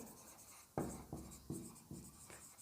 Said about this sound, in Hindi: जैसे कि एक एग्जांपल मैं लिखती हूँ